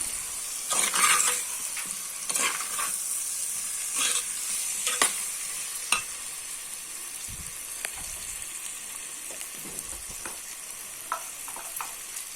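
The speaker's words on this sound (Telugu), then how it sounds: "ముందుగా ఉడిచిపెట్టుకున్న బంగాళదుంపలు వేసుకోవాలి బాగా కలుపుకోవాలి" Boiled potatoes stirred in a pan for potato kurma: a soft, steady frying hiss with intermittent spoon scrapes and clinks against the pan, fairly quiet and close, without voices.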